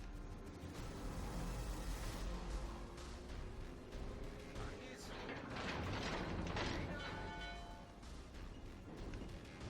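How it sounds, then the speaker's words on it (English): Heavy mechanical grinding and creaking from a German battleship's gun turrets traversing in World of Warships Legends, continuous and loud beneath dense battle noise and rumble. "I know my forward guns are turning to the left"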